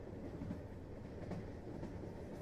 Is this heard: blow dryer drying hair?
no